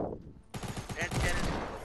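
Hand cannon shots in a first-person shooter video game crack out in a quick burst after a short pause, loud and sharp over game noise.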